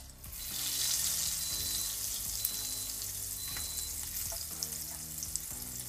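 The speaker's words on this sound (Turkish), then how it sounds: "Biraz lezzetlenmesi için yağın hem de soğanın karamelize olması için az bir kızartacağız" Onion rings sizzling steadily in hot oil in a pan, a continuous close frying hiss with a few soft clinks, no talking.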